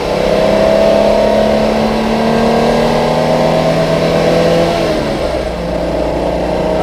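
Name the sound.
classic car engine revving on downshift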